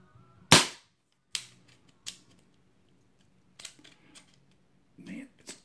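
Diana Bandit .22 air pistol firing pellets: one sharp loud crack, then a few fainter clicks and mechanical cocking sounds spaced over several seconds.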